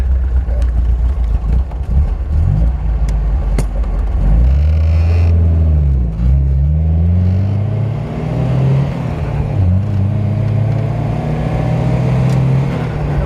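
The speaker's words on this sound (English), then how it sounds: "Peppy little engine." A 1979 MGB convertible's small engine runs steadily and loudly while driving, its pitch rising and falling as it accelerates and shifts gears.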